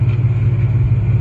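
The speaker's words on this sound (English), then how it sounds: "What you're actually hearing right now is the engine itself." A car engine idles close up through a single exhaust with dual mufflers, a loud, steady low throb with a slightly pulsing rhythm.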